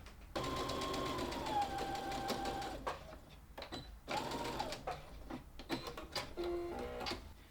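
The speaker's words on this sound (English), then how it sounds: "And our final step is to sew with a 1/2 inch seam allowance along that edge." A sewing machine stitches a half-inch seam along the edge of a fabric drawstring bag, its motor whirring in close, loud bursts with short pauses and a few stops and starts.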